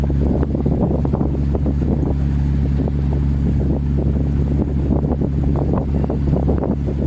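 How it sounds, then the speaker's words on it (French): Wind buffets the microphone at a canal lock with a continuous low roar and gusty rumbles, loud and close, over a faint steady hum. "Alors évidemment on n'aime pas le vent dans ces moments-là."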